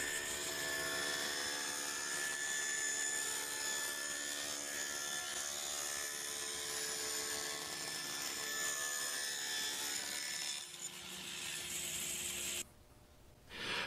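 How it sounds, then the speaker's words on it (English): Saw ripping a wooden bookcase front panel to width, a loud continuous whine with a steady tone that drops away near the end before a short quiet gap. "Then I ripped the front panel to that width."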